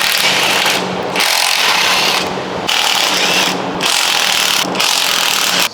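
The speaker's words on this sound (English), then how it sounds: "This is the engine sump. Got a number of bolts in it. Let's remove these bolts." Bolts are loosened from the sump of a seized Range Rover V8 engine during a strip-down, heard as loud, close bursts of ratcheting and grinding tool noise separated by short pauses.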